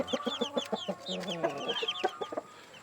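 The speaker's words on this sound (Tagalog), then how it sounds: "Yan naman yung sisiw guys." Guineafowl chicks on a farm give a busy stream of high, rapid peeping chirps that overlap one another, close and fairly loud, over a faint background hum.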